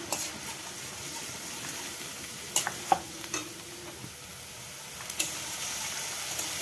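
Onion paste frying in a pan with cardamom and a bay leaf, stirred now and then for a Bengali chital fish curry, a steady soft sizzle broken by a few sharp spoon scrapes and clinks.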